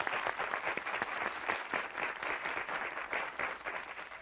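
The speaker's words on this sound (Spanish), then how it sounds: "Un aplauso para ellos." A TV game-show studio audience gives a sustained burst of applause, dense steady clapping from many hands that fills the room, loud and even from start to finish with no speech over it.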